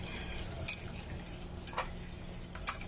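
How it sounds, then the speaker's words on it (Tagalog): Keto ube cupcake batter being stirred in a bowl, a soft continuous scraping with a few sharp clinks of the utensil against the side, close and fairly quiet. "Just mix it."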